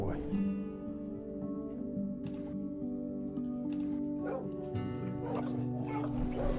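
A dog gives sustained tonal whining and yipping with short barks mixed in, close and fairly loud, its pitched cries stretching across the whole span with a voice partly underneath.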